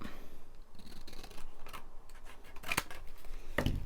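Scissors snip paper for a handmade junk journal, several crisp cuts close by, the sharpest near the end, with soft rustling of paper between them.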